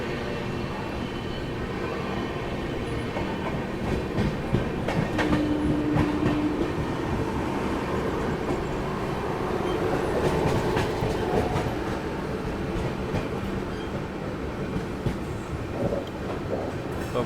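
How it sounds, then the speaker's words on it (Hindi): Vikramshila Express train running through Prayagraj Junction without stopping, heard from on board as a steady rumble with clickety-clack wheel beats and a brief squeal, continuous and fairly loud. "ये ट्रेन भी प्रयागराज जंक्शन को स्किप कर रही है"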